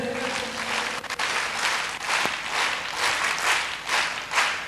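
A group of people in a teachers' activity training session claps together in a steady burst of applause, fairly loud and sustained throughout with no talking.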